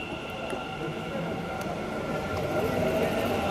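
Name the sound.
metro train ride from Majestic to KR Market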